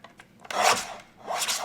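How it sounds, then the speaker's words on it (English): A paper panel is trimmed for a scrap-paper craft card, probably on a sliding paper trimmer, giving two close, rasping strokes of a blade through paper, the second shorter than the first, with no talking. "the first thing that I want to do though is trim my panel down 4 inches"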